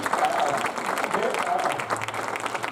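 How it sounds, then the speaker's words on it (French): An audience claps at a Mother's Day service in a church, a dense, steady patter of many hands, with people talking over it. "On va applaudir."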